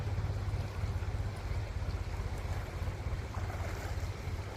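Floodwater rushes knee-deep through a flooded peanut field, a steady, loud broadband roar of flowing water with a low churning rumble throughout and no voices.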